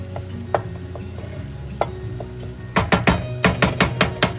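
Chicken pieces cook in a pan for a dry chicken roast, with a soft continuous sizzle under several sharp metallic clinks and scrapes of stirring that grow more frequent toward the end.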